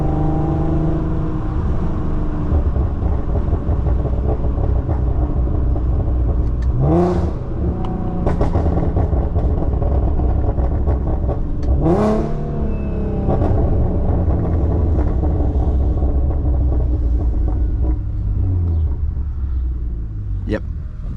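A tuned 2015 Infiniti Q50 with a 3.7L engine and test pipes drones loudly throughout a drive, with two sharp rising revs and a deep exhaust rumble, while someone talks over it.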